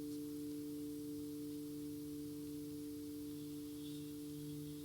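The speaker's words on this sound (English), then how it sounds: "to the sound of the bowls" Steady, sustained metallic tones from singing bowls hum and ring softly at a constant pitch, a calm drone with faint background hiss and no talking.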